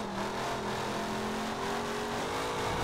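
Forza Horizon 4 car engine pulling away from a standing start, a steady, close drone with a rising tone that climbs smoothly throughout, no talking.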